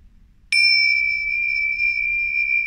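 A small bell-like percussion instrument is struck once, giving a bright, pure ring that sustains steadily for about two seconds over near silence.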